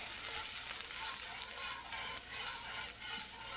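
Milk stirred into a butter and flour roux over heat gives a steady, close sizzling hiss with soft stirring texture throughout, and no voices.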